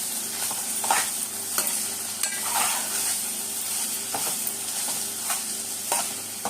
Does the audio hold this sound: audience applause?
no